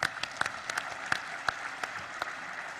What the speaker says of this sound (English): Let's give a round of applause for the Task Force and Action Council